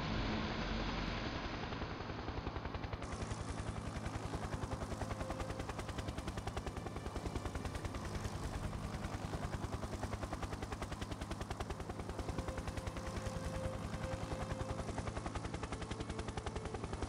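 A helicopter in Factorio drones continuously with a rapid, steady rotor chop, loud and close throughout without any talking.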